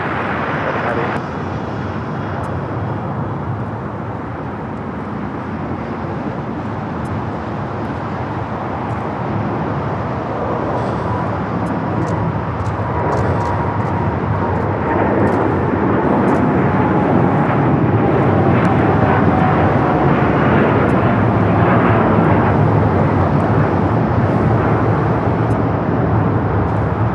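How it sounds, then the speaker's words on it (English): An American Airlines Boeing 787-9 Dreamliner roars on takeoff from LAX, a broad sustained rumble that grows louder toward the end. People talk over it. "That is American Airlines Flight 27 taking off to Tokyo Haneda on the 787-9 Dreamliner."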